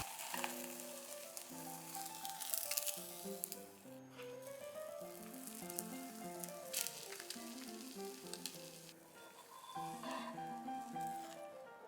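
A thin egg-yolk sheet (jidan) fries in a pan with a soft, steady sizzle, partly buried under prominent melodic background music.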